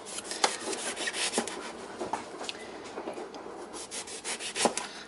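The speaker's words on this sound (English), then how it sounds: "I'm slicing it now" Knife slicing eggplant into quarter-inch rounds on a cutting board, a series of short, close, crisp cuts and scrapes in a loose rhythm, with no talking.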